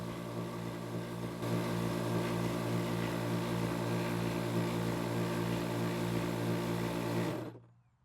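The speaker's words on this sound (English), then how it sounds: "once the pump has inflated the board to whatever psi we set, which in this case was 15, the pump will auto shut off" An Outdoor Master Shark 3 electric pump drones loudly while inflating a paddle board to 15 psi, a steady tonal motor hum that steps up in pitch early on, then shuts off abruptly near the end.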